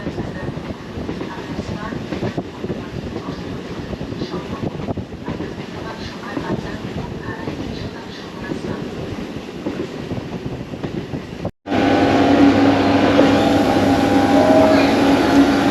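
A passenger train running through farmland toward Tarakeswar rattles loudly with steady clickety-clack wheel rhythm and carriage rumble, then the sound cuts abruptly to a brighter, denser hum with a whining tone near the end.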